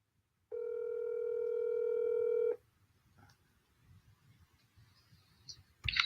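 A steady telephone dial tone sounds for about two seconds while a call is placed, followed by quiet line noise, a few soft clicks and a sharper click at the end.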